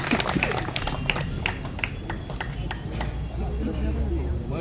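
An audience claps for a singer at a stage program, with quick, evenly spaced claps mixed with crowd murmur and voices talking over them.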